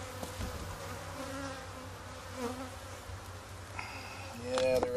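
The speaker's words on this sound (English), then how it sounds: "this is the hive of carniolans" Carniolan honey bees buzz steadily around their hive, a continuous close-up drone with a brief louder swell near the end.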